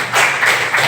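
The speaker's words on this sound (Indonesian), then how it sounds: "tepuk tangan buat Susi" Students in a classroom clap for a classmate, a short burst of a few hand claps close by, with three soft pulses in under a second.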